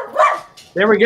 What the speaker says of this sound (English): No, that was a dog barking.